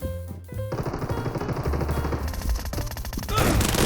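Dense bursts of automatic and shotgun fire in PUBG Mobile ring out over a game soundtrack, rapid repeated shots stacking into a loud, continuous barrage that intensifies toward the end.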